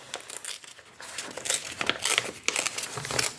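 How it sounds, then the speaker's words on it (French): Magazine paper torn and crinkled by hand for a collage, close and irregular, with quick rips and rustling bursts that grow busier after the first second. "je vais déchirer comme ça"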